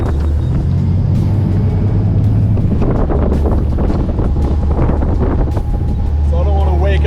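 A US Coast Guard boat's engines drone loud and steady while crossing the Depoe Bay bar, mixed with heavy wind buffeting and rushing water, with a brief voice near the end.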